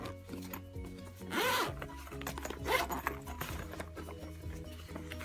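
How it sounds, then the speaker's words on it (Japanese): A double zipper on a fabric pouch is pulled in a couple of short rasping strokes, close and fairly soft, over a steady bed of background music. "ファスナーはね、このダブルファスナーになってます。"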